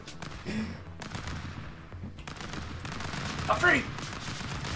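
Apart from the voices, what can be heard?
gunfire in the video game Stick Fight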